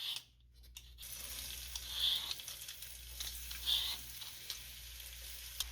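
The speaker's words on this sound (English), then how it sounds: "Heat the pan for 1 or 2 minutes and add potato slices." Potato slices sizzle in hot oil in a pan, a soft, steady crackle with a few brief louder pops, heard alone after a short quiet start.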